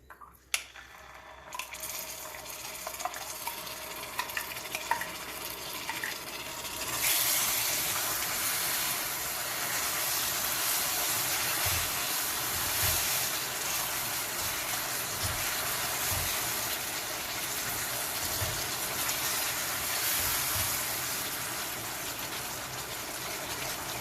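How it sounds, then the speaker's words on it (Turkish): Hot cream poured into melted caramel sets off a steady rushing hiss and bubbling that swells after a quieter start and continues evenly, with no voices. "Karamel eridi. Şimdi kremayı ekliyorum."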